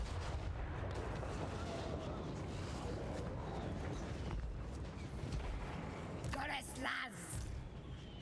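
Artillery firing in the video game Total War: Warhammer 3, a constant low rumbling barrage of booms and battle noise with a sharper blast near the end, while a person talks over it.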